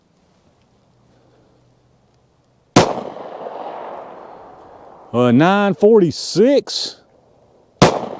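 Two loud, sharp gunshots from defensive ammunition test rounds crack out several seconds apart, each with a brief echoing tail; someone speaks a short number between them in an otherwise quiet outdoor setting.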